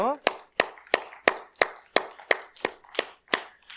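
A Korean church congregation claps in steady unison to encourage its volunteer drivers, with about eleven crisp, evenly spaced claps at a brisk beat after a brief vocal tail.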